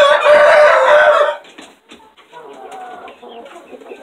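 A rooster crows loudly and close for over a second, then chickens cluck more softly in a scattered, uneven run.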